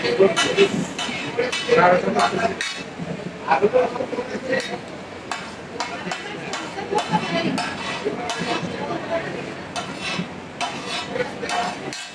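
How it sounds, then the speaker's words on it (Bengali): Pav bhaji being cooked at a busy market stall in Kolkata's New Market, with metal utensils clinking and scraping on a griddle in repeated bursts amid a crowd's chatter and street bustle. "পাওভাজি বানাচ্ছে এখানে আমাদের"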